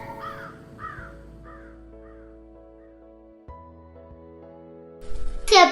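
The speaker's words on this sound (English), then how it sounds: "This is a crow. It is black in color." A crow caws several times in a short harsh series, fairly close, over a quiet background with a faint tonal hum and a louder rustling burst at the end.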